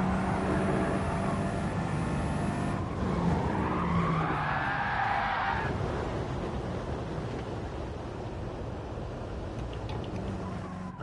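Tyres skid and squeal for several seconds after a car brakes on grass in GT Sport, a loud sustained scrub over engine roar that fades gradually.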